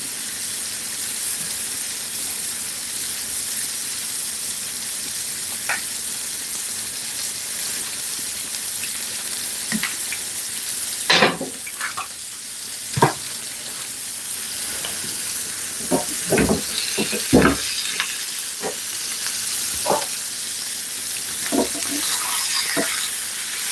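Plantains fry in a pan with a steady hiss of oil that runs throughout. Several sharp clatters and pressing knocks come through in the second half.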